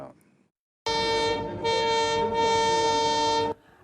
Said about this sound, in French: le sifflement du train rappelle toujours l'épopée glorieuse de la ville aux 2 gares